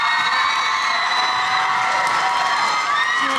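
Middle school talent show audience cheering and whooping from bleachers, a steady loud crowd roar with high shouts from children throughout, applause blended underneath.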